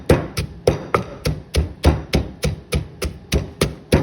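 Jeow som chili dip being pounded in a mortar, a steady run of about thirteen sharp, evenly spaced thuds with a pestle, close and loud, with no voices.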